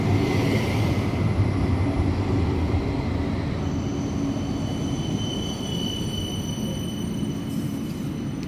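A tram riding on rails in Luxembourg, heard from inside as a loud, continuous rumble of wheels on track with faint high squeal tones, steady throughout.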